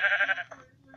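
Bleating sheep in a video game, a loud drawn-out bleat that fades out over about half a second, followed by a faint quieter trailing call.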